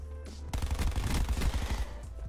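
MX9 submachine gun fire in Black Ops 4, a rapid, loud burst of automatic shots that starts abruptly and keeps going for about two seconds, close up and without speech.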